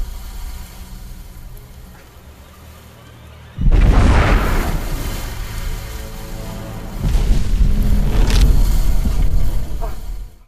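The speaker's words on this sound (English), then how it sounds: "his coffin is rocked by an explosion above the ground" An explosion above ground rocks a buried coffin in the movie Buried, a sudden heavy boom that cuts through a quieter rumbling bed, then rolls on with debris and a second loud surge of rumbling.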